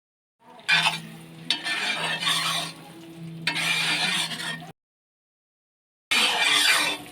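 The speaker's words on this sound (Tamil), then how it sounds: "இந்த டைமில் கொஞ்சம் கொஞ்சமாக நெய்யை போட்டு கிண்டிகிட்டு இருக்கலாம்." A spoon stirs thick ragi milk jaggery halwa with ghee in a pan, making scraping, soft sizzling passes with occasional light clinks, then a short silence before the stirring resumes.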